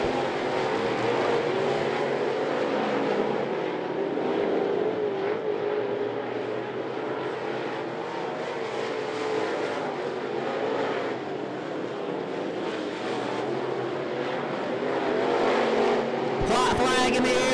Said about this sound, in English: We're on the final lap of this great late model heat race.